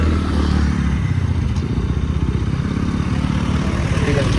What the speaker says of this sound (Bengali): এই বাইকটা মনে হয় এখানে পার্কিং করতে হবে।